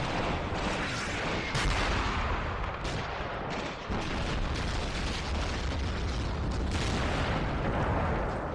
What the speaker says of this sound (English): Oh man, an artillery bombardment.